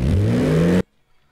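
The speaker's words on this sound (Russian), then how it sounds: "я использовал звук разгона суперкара" An AI-generated supercar accelerating hard, a loud sustained engine roar with a rising pitch that cuts off abruptly after under a second, followed by silence.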